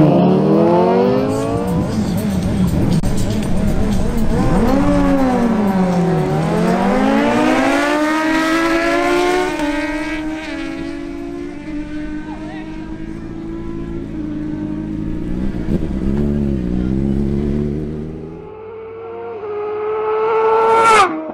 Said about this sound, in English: Wilson Penzo on his Honda CBR1000RR makes another attempt